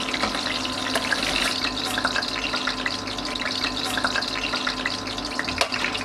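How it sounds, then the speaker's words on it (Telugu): Green chillies fry in a pan, producing a dense, continuous bubbling sizzle close up with a constant underlying hum and no speech. "ఇప్పుడు ఈ పచ్చిమిరపకాయలను వేయించుకోవాలి"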